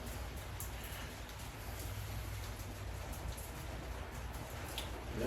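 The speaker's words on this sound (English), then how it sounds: "It's starting to really rain out there, like for real." Rain falling steadily outdoors in Phoenix, a soft, even wash of broadband patter with faint low rumble, fairly quiet and continuous with no talk over it.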